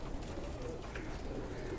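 Pigeons kept by a fancier coo softly at a distance, a faint low murmur over steady background noise with no talk.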